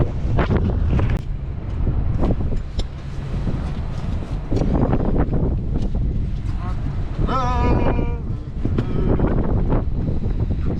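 Strong wind buffets the microphone outdoors on a blustery day while an abseiling rope is being rigged at an anchor, a continuous loud rumbling roar with gusty surges and a few brief knocks.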